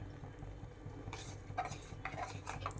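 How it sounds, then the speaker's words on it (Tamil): A melted homemade soap mixture is stirred in a pot, with soft scraping and a few light metallic clinks of a utensil against the pot, quiet and close, without speech. "இப்போ இதை ஊற்றிட்டு இது சுற்றி நம்ம கலக்கணும்"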